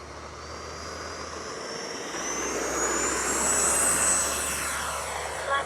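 A Freewing F9F-8 Cougar 80mm RC jet with afterburner roars past as its whine rises in pitch and swells louder, then eases slightly, with a broad rushing hiss underneath.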